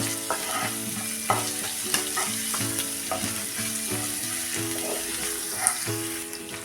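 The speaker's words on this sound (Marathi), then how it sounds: "त्यात टाकूया हा लसूण आणि हिंग लसूण पण थोडासा परतून घ्या" Garlic and asafoetida fry in hot oil with cumin in a pan, giving a steady, close sizzle with stirring scrapes throughout and no talking.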